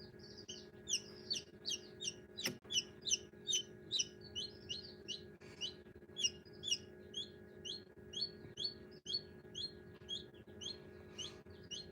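A baby bantam chick hatching from its egg peeps in rapid, regular bursts of high chirps, close and clear over a faint low hum, with no voices.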